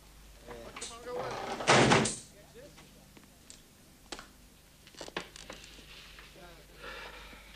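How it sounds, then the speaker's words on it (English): An office door is shut with a loud thud early on, followed by quieter shuffles, small knocks and movement in a room, with faint voices in the background. "shut the door."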